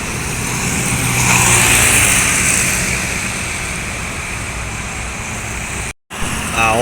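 An MPM bus from West Sumatra passes on a road in Sumatra, a loud close roar of engine and tyre noise that builds and fades, with a brief dropout near the end and no talk.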